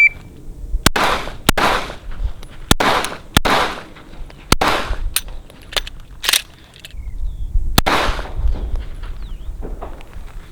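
Glock 19 Gen 5 pistol fitted with a Radian Ramjet and Afterburner firing about eight sharp, loud shots at a range, mostly in quick irregular succession with a brief pause before the last shots.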